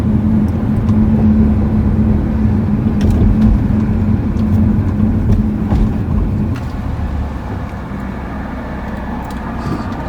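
A BMW 335i F30 sedan with a ZF 8-speed automatic transmission drives in low gear, its engine drone steady and loud inside the cabin, then easing to a lower level partway through as the engine load drops.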